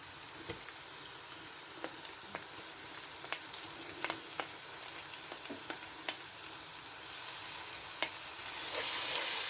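Ginger garlic paste sizzles steadily in a pan with browned onions for a spiced cauliflower dish. Scattered crackles and pops run over a continuous frying hiss that grows louder near the end.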